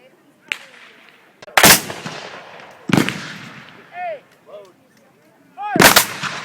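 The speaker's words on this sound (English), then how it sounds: "That's the volley fire." Muzzle-loading rifles fired in volleys at a Memorial Day weekend reenactment at Greenfield Village by troops in militia uniforms: three loud, sharp outdoor volleys spaced a second or more apart, each with a rolling echo, and a short shout in between.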